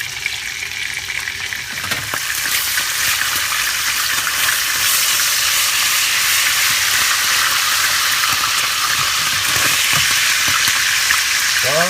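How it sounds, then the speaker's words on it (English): Bacon fries in a pan over high heat, giving a loud, continuous close-up sizzle and crackle that swells slightly after the first couple of seconds, with occasional faint clinks of a utensil. "the next thing we do is we proceed to cook more bacon"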